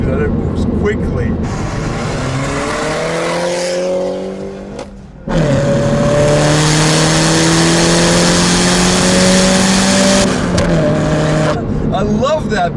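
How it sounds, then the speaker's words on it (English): A 2014 Mini Cooper S accelerates hard and loudly through its gears, the engine note climbing, a brief dip at a shift, then pulling strongly again, with exhaust pops as it changes up. "You go from 3 to 4 and you hear that exhaust just pop."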